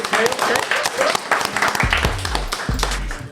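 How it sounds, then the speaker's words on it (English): A small group claps during a podcast recording, scattered claps and a short burst of applause mixed with talking voices and some low thumps. "Okay, clap it up."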